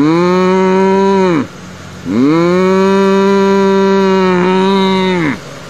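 Cattle give two long, loud moos close by, each rising then sliding down, with a short quiet gap between them.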